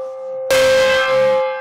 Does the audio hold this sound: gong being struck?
yes